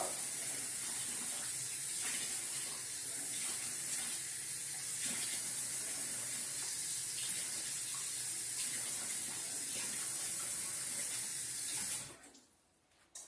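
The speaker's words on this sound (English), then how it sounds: "So now the last ingredient I'm going to put is my water" Water pours into a blender in a continuous, loud rushing stream for about twelve seconds, then cuts off, followed by a faint clunk.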